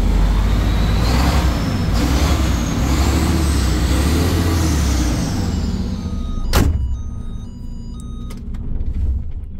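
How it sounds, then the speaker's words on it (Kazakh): A heavy engine roars loudly and steadily for several seconds, then drops off sharply after a brief click, leaving quieter mechanical hum and faint tones. "Газды берип атам азыр."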